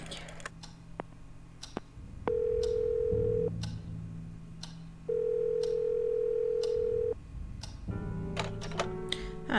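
Telephone dialing and ringing in the video game Scratches: clicks and dial tone, then two long steady ring tones separated by a pause, followed by a burst of quick dialing beeps near the end.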